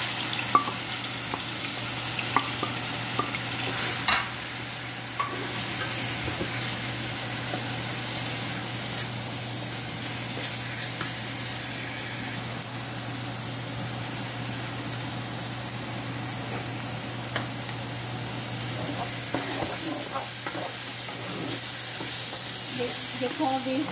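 A paste of blended onion, lemongrass and galangal sizzles steadily in a pan for spicy tamarind fish, with a constant close frying hiss, faint stirring scrapes and a low background hum.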